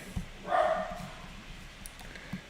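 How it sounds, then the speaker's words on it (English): A dog barks once in a muffled, mid-distance yelp outdoors at a building site, followed by faint low noise and a couple of soft thumps. "Hush, dog."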